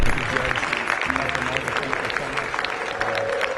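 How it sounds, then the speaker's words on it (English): An audience applauds honorees Judge Sam Biscoe and Dr. Michael Marder at a public conversation event, a dense, continuous patter of many hands with voices mixed in. "a big round of applause for our honorees"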